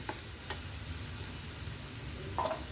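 Pepper and coriander powder are stirred in a hot pan for a paneer dish, producing a soft, steady sizzle with a few faint scrapes and ticks from the utensil.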